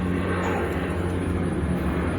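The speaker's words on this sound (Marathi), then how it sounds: "बघ विमान आलं." A fixed-wing airplane passes overhead outdoors, its steady low engine roar filling the whole stretch at an even, loud level with no clear rise or fall.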